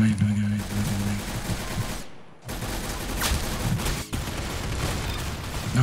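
Rapid gunfire in the Roblox game Arsenal, dense bursts of shots packed together loud and near with a brief break partway, mixed with game noise and a voice.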